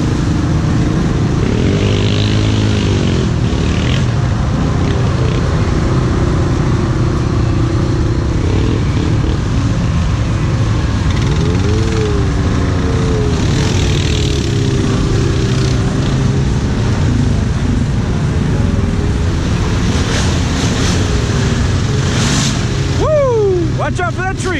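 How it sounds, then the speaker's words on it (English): A dirt bike engine at a mud event, heard from a distance: a continuous loud engine drone with repeated revving swells over outdoor background noise, with people talking throughout. "Hear Shorty's bike from all the way back here."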